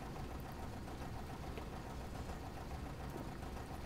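A diesel locomotive engine in the Corris Railway train simulator game labours and nearly stalls, a steady low, rough rumble with faint knocking, running alone without speech.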